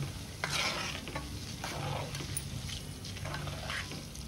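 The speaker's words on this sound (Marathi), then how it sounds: "असं हळूहळू तळलं गेलं की आपली फोडणी जळत नाही" Steady sizzling of a spice tempering with turmeric frying slowly in hot oil, with occasional soft stirring scrapes in a pan, close and continuous.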